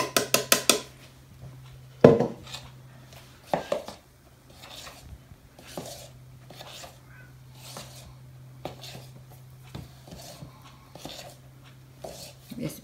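Fried apple pie dough being beaten in a bowl by hand, giving soft, irregular taps and scrapes against the bowl over a steady low kitchen hum, with an occasional sharper clink.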